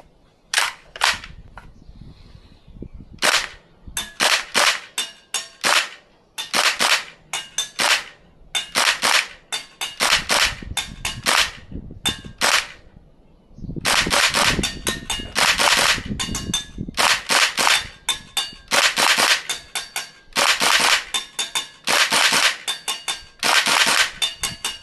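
Tokyo Marui AKM green gas airsoft rifle firing BBs, loud and close, in rapid bursts and long strings of sharp cracking shots with short pauses between them.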